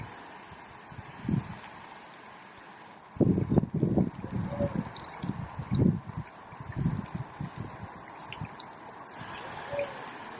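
Water drains from a bottle in a spun vortex, heard as gurgling, sloshing bursts that start after a quiet stretch and continue unevenly, fairly close.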